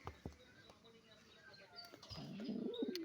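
Pigeons coo softly, a low rolling call rising toward the end, with faint chirps and scattered clicks earlier in the short stretch.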